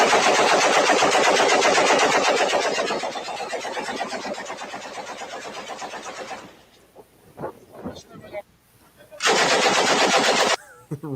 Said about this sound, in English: Runaway machine gun.